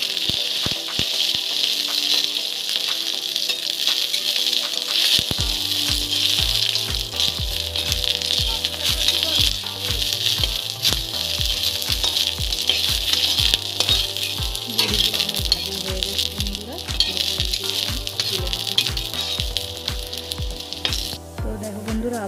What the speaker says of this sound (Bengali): দিয়ে দিলাম তেলের মধ্যে, বড়িগুলোকে আমি আগে ভেজে নেব।